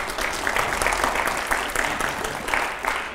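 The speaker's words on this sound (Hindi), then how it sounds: "जोरदार तालियां हो जाए जरा" An audience at a TV studio show breaks into applause, a steady wash of clapping that continues evenly at moderate level for several seconds with no speech on top.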